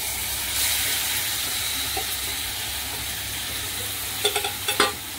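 Cooked taro leaf vegetable stirred into a spice mix in a pan, giving a steady background sizzle and hiss, with a few quick scraping stirs near the end.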